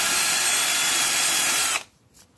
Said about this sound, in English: I finally used the wire wheel.